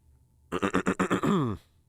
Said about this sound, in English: I don't even know why you clearing your throat.